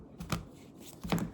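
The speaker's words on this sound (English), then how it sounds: "All right, lots of shuffling." Tarot cards shuffled by hand in a few short, crisp bursts of riffling, each around a quarter second long, close and fairly quiet, with a brief pause between them and no talking.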